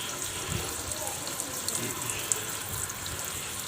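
Water runs steadily from a tap over a water-transfer-printed workpiece, rinsing leftover film residue off it. The rush of water is constant and moderately loud from start to finish.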